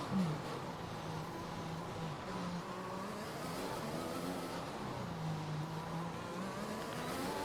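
Formula 1 race car from the F1 2021 video game droning steadily through a lap, a continuous engine tone with shifting pitch holding at even loudness throughout.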